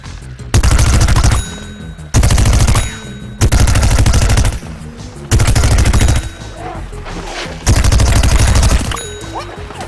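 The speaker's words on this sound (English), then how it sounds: "Here the ice pea shooter is using his rooted Gatling attack to thin out the zombie horde from a distance" Rapid rooted Gatling fire from an ice pea shooter in Plants vs. Zombies Garden Warfare comes in five loud, sustained machine-gun-like bursts separated by short pauses.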